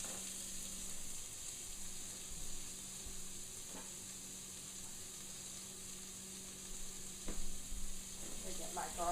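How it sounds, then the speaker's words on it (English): Onion, garlic and portobello mushroom sautéing in a pan at medium heat, a faint, even sizzle with a few soft stirring knocks near the end, heard close without any voices. "And I'm going to saute this for a little bit at medium heat."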